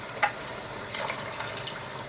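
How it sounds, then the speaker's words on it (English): Two cups of water pour into a pot of mutton karahi, a brief splash followed by a steady soft rushing of liquid at close range. "we're going to take 2 cups full of water and just add them straight in"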